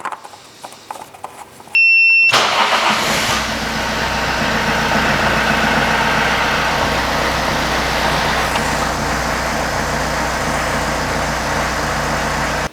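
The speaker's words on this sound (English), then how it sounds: "So let's start the engine and we will check the level after." A Toyota Auris engine cranks briefly with a warning chime, then catches and settles into a steady, loud idle that runs on.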